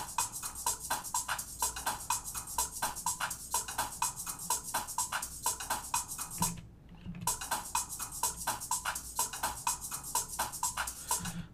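A trimmed drum loop plays back in Pro Tools, a busy groove of steady hi-hat ticks over kick and snare hits. It sounds at moderate level with a brief dropout midway, then repeats.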